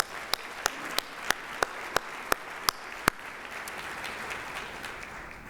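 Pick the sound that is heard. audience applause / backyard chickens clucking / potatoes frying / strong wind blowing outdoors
audience applause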